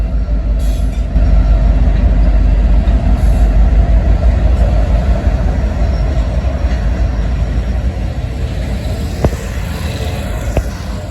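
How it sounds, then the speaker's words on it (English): A Norfolk Southern southbound ethanol freight train passes close by on the Sandusky District in central Ohio, a loud continuous rumble of rolling cars with rattling wheels and a couple of sharp metallic clanks near the end. "just barely got this Norfolk Southern southbound ethanol train going down the Sandusky District"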